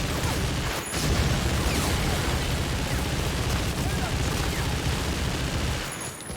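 Machine gun fire in the Medal of Honor Frontline video game rattles in a dense continuous burst lasting several seconds, loud and close, with brief gaps at the start and end and game combat noise around it.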